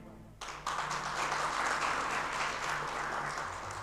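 A church congregation bursts into sustained applause, a dense and steady wash of many hands clapping together that swells quickly and holds at full strength.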